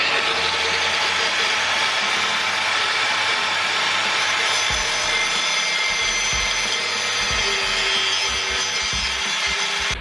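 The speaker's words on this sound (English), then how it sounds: "I was grinding through the exhaust pipe." A grinding disc cuts through the exhaust pipe of a Ford Focus ST225, a loud, continuous high-pitched abrasive whine held steadily, with some low knocks and clunks toward the end.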